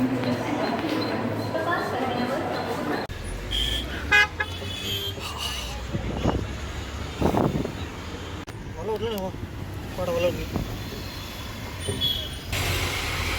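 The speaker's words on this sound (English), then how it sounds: "vehicles are crossing the road very near to us" Traffic rushing past very close on a busy Mumbai road, with car engines swelling and fading, a couple of horn toots and a continuous roadside hum, while voices talk over it.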